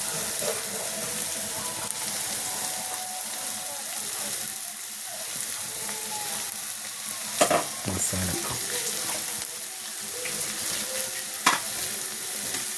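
Beef frying with ground masala in a pan, a constant loud sizzle with clattering stirring strokes bunched in the middle and another scrape later.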